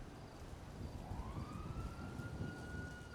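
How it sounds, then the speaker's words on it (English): A faint police siren in GTA V rises and wails in the distance over a rumbling, windy background, sounding thin and far off. "There's multiple sirens."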